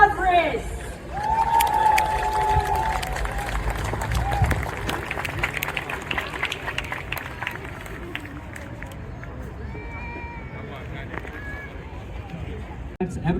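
Audience at a Ukrainian community meeting in Santa Monica applauding a speaker, a broad wash of clapping and crowd noise that starts strong and gradually thins out, with cheering and chatter mixed in.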